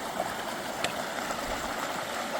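River water rushing steadily at a wide trail crossing on the Appalachian Trail near Monson, a constant broadband wash of moderate loudness with a faint brief clack partway through.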